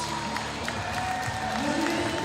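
A crowd claps in a steady, moderate wash at a para powerlifting championship in Almaty as a lifter leaves the stage, and a commentator talks over the applause.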